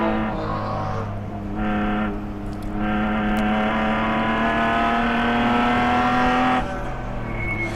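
A race car engine drones loudly and continuously as it is driven through a corner at a ChampCar endurance race, its pitch holding steady with slight shifts as the car takes curb, and no talk over it.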